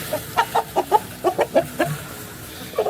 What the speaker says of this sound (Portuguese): que galo grande